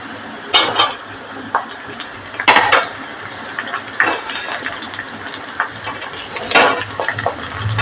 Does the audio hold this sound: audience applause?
no